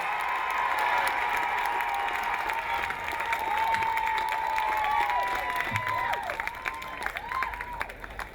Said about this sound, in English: let us give him a loud and lusty round of applause for all his years.